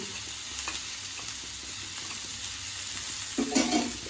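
Ginger and cumin paste sizzles in a hot frying pan while cooking bottle gourd and potato, a steady close frying hiss with light stirring scrapes and a louder burst of sizzle near the end.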